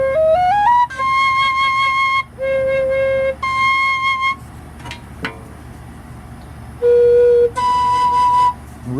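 A handmade four-hole Native American flute plays clear, sustained notes, with short pitch slides between steady tones, separated by brief pauses, loud and close.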